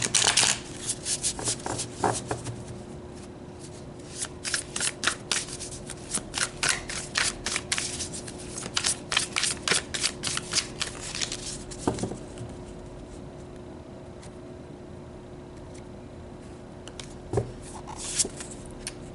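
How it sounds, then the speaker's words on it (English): Tarot cards are shuffled by hand in bursts of quick riffling and flicking, close and crisp, with quieter pauses and occasional soft taps between rounds. "So let's pull some more tarot and clarify this further."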